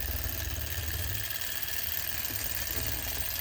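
A small Enjomor Stirling engine runs steadily up close: a continuous, even mechanical whir with a faint low rhythmic thump and no pauses or voices.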